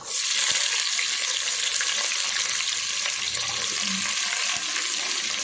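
Chopped onions fry in hot oil for chicken biryani, giving a continuous loud sizzle with a steady hiss and faint stirring clinks underneath.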